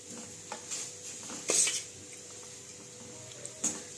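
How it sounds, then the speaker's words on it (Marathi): Potatoes tumble into a pan of peanuts, with a few scattered clinks and a louder clatter of pieces landing against metal, followed by a later single knock, close and otherwise quiet. "ते झाल्यानंतर आपण त्याच्यामध्ये बटाटे पण टाकून घेऊया।"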